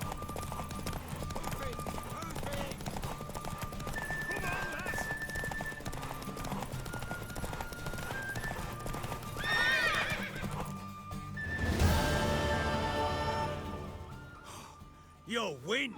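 A horse in The Witcher 3: Wild Hunt clip-clops along and lets out loud whinnies, hooves beating steadily beneath game music, with a sharp neigh near the end.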